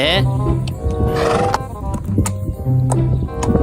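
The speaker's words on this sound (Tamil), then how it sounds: "அவங்க வளர்த்த குதிரைங்க இதான் சான்ஸ்னு தப்பிச்சு ஓடிடுச்சு." Farm horses whinny loudly several times as they run off, over a busy, dense background of movement and noise, with harmonic neighs rising and falling near the microphone.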